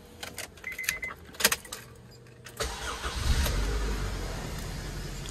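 A used car's engine cranks and catches at a dealer lot, preceded by a few clicks and key jangles, then settles into a steady, fairly close low rumble that carries on to the end without talk.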